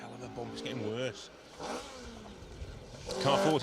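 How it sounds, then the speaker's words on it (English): A rally car on a gravel stage of Plains Rally 2023 drones faintly in the distance, its engine rising and falling beneath a commentator's talk before it grows louder near the end. "I can just hear the car in the distance."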